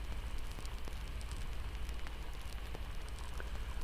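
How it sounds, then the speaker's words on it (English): Soft, steady rain falls outside a cabin, a quiet even patter with faint low rumble and no voices. "Outside, the rain grows slightly steadier, but its sound remains soft, soothing, like a lullaby whispered just beyond the walls."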